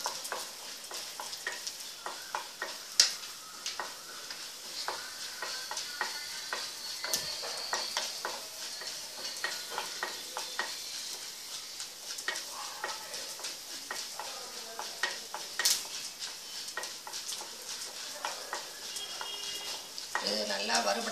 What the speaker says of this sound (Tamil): இப்போது இந்த உளுந்தம்பருப்பையும் எண்ணெய் தலையும் போட்டுடலாம். கொஞ்சம் ஃப்ரை ஆகட்டும்.